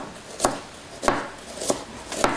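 A knife chopping onions for rougail saucisse, four evenly spaced single cuts about half a second apart, close and crisp, with no talk.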